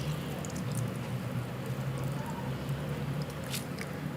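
Soaked gram flour dahi bara fritters are squeezed by hand, giving a steady wet squishing of water pressed out, close up and continuous with no one speaking.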